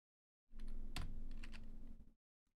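Rapid keystrokes on a computer keyboard during a game of Scorched Earth, a dense close burst of clicking lasting under two seconds, followed by one faint stray tap, with no talk.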